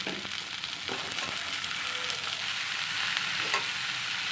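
Onion stalks fry in a pan with turmeric and ginger, a dense continuous sizzle with light scraping stirs and a few soft clicks from the utensil.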